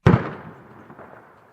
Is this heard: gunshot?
yes